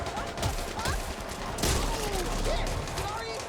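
Back 4 Blood gunfire: rapid, steady shots in an ongoing fusillade, with one louder crack in the middle and people talking throughout.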